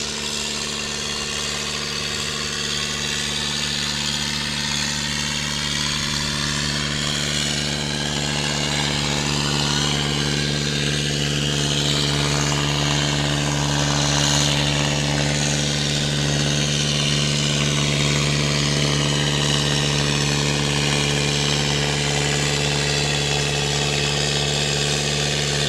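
A Massey Ferguson 65 tractor engine runs at a barnyard tractor pull, a steady close rumble with a strong low hum and vibration, holding a constant pitch for the full length.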